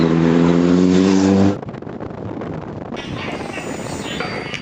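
A T9 3000W 72V electric motorcycle on a test ride along a road, with a steady whirring drive and rushing road and wind noise; a loud tonal hum opens the stretch before it drops to a broadband roll.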